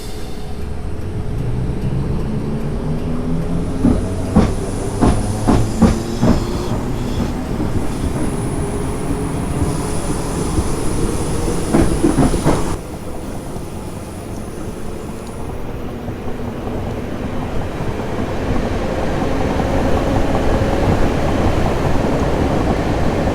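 A Class 377 electric train runs in Train Simulator 2018, a loud, steady rolling rumble with rhythmic wheel clicks over rail joints, rising motor whine tones and a high whistle, continuous throughout with no talk.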